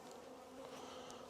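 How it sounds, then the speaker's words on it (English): Honey bees hum around a small hive in a faint, steady buzz with no voices. "See all the bees on there."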